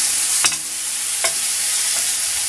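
Beef fries in a pan with a steady sizzle while a slotted spoon stirs it, giving three short scraping strokes against the pan.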